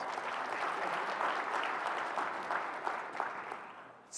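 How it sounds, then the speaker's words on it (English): Audience applause at a convention gathering, a sustained even round of clapping that thins out toward the end. "Please give everyone a round of applause."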